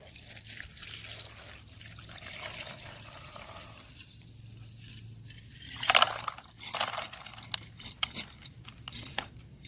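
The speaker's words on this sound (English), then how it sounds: "But now I'll pour it into this container." Liquid holding gold-plated circuit-board fingers is poured into a container, giving a close, brief splashing and trickling burst with jangling clinks, followed by scattered drips and rattles against a low background hum.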